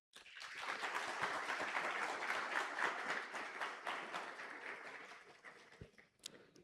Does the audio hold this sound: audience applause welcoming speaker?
yes